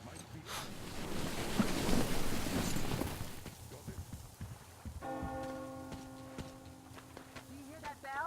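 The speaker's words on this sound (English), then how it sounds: "You hear that bell?" A church bell rings in the ruined landscape of the video game Metro Exodus, its sustained tolls heard at a distance over wind and ambient noise in the game's soundscape.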